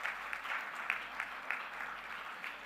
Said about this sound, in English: So please give Anshul and his team a big round of applause.